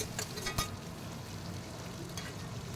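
Curry leaves and slit green chillies sautéing in oil in a pan, a steady soft sizzle with a few brief stirring clatters near the start, no voices.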